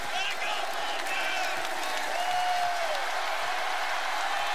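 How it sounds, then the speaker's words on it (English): Raucous crowd at a Kentucky vs Tennessee college basketball game keeps up a steady roar of cheering and clapping in a packed arena, loud and continuous beneath a commentator's talk. "in front of this raucous crowd that started arriving 4 hours before the tip"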